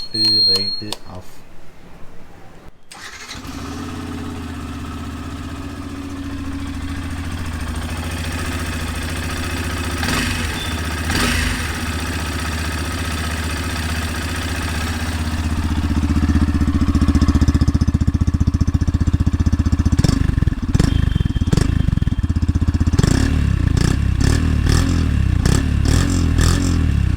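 A Yamaha FZ S Version 3.0 BS6 motorcycle idling, its steady low exhaust rumble continuous and close, growing louder partway through, with someone talking over it.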